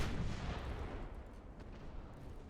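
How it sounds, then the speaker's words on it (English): Ammunition detonating aboard the warship Grafton in Ultimate Admiral Dreadnought, a loud, dense rumble of blasts that starts strongest and slowly fades, with no voices over it. "Ammo detonated on the Grafton."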